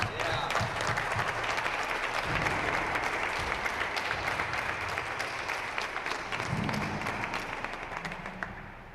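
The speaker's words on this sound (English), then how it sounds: "let's give these both these athletes a another round of applause" Audience applause after a pro racquetball finals match, a dense steady clapping that fills the room and fades slightly at the end, with no talk over it.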